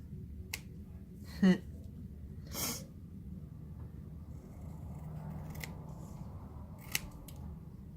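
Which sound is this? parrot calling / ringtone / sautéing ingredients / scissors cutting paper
scissors cutting paper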